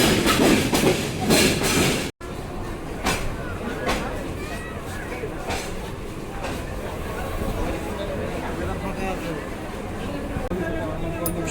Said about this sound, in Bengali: সকাল সাতটা ষোলো মিনিটে ট্রেন ছেড়ে গেল বিমানবন্দর রেলওয়ে স্টেশন